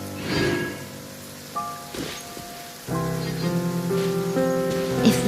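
Rain falls in the Genshin Impact game world as a soft, steady patter, mixed with tonal game music and chimes that build toward the end.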